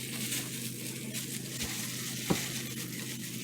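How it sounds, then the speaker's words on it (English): Steady hiss and crackle of hot grease sizzling in a fryer, ready for frying chitterlings, constant and fairly loud with no voices. "My grease is ready. As you see, it is sizzling at the bottom."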